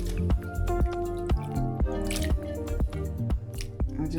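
Crochet hair soaks in a container of water, with close wet drips, splashes and squishy sloshing arriving in an irregular run of distinct plops, fairly loud and without talk.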